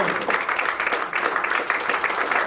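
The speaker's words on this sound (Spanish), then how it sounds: "¿Cuántos le dan un aplauso al Señor?" A church congregation gives steady, dense applause for the Lord, a continuous wash of many hands clapping at once with no gaps.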